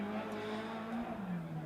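Race cars qualifying two at a time in a BCRA WMR Super Series event at Stockton Dirt Track, heard as a steady, loud engine drone with a droning pitch that sweeps slightly through the short stretch.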